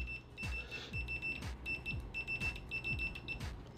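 A Sanwa PM7a pocket multimeter gives a continuity beep, a steady high tone sounding in several short repeated bursts alongside faint rhythmic tapping, close and fairly quiet with no talk.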